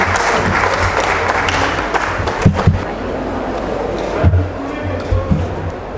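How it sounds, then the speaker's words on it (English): An audience applauds steadily to welcome Dr. Kiran Bedi on stage at the Delhi Dental Show 2022, a dense, continuous clapping under a few brief voices and low thumps from the stage. "Ladies and gentlemen, please give a big round of applause and welcome her once again."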